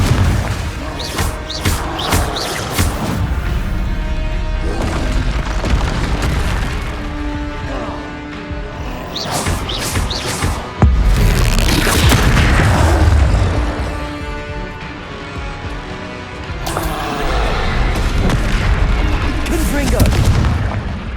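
Confringo explosive spells cast in the Hogwarts Legacy video game: loud repeated booms and bursts layered over dense, continuous game combat sound, with several heavy impacts spread across the stretch.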